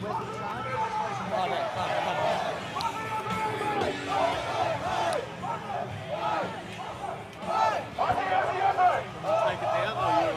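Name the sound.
crowd at Put Australia First rally in Melbourne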